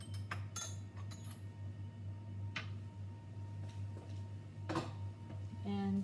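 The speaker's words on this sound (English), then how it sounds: "Give that funnel a good rinse." Scattered light clinks of glassware as a glass funnel is rinsed in a lab, close and quiet, with a faint steady hum underneath.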